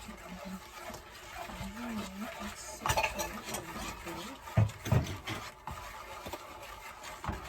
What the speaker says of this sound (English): we're going to stir until all that sugar dissolves